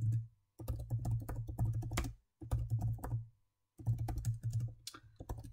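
Typing LaTeX commands on a computer keyboard: close, crisp keystrokes in three or four quick runs separated by short pauses, with no voices.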